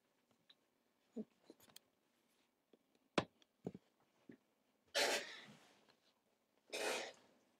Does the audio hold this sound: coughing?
yes